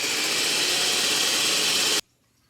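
Electric mixer whipping egg whites for meringue cookies, a loud steady whirring hum lasting about two seconds before it cuts off abruptly, no talk.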